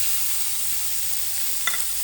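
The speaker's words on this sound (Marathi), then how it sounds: "त्याच कढईमध्ये मी थोडं तेल ॲड करत आहे आणि 2 चॉप केलेले ऑनियन आता ॲड" Chopped onions frying in oil in a kadai give off a steady, close sizzle throughout, with a faint clink of stirring near the end.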